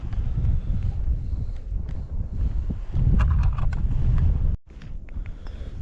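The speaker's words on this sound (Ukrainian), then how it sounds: "Дуже вітер" Strong wind gusting across open ice during a winter fishing trip, a rough low roar buffeting the microphone in waves, with a brief sharp dropout near the end.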